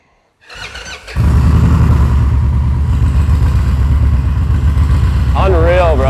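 A custom bagger motorcycle starts with a short cranking burst, then catches and settles into a loud, steady, close engine rumble, with a brief high squeal near the end.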